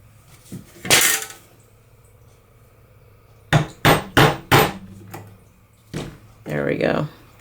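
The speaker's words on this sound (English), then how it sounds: "give it a couple whacks with the hammer" Metal hammer blows ring out driving a piece into scrap wood: one strike, then a quick run of four sharp whacks, followed by a short spoken remark nearby.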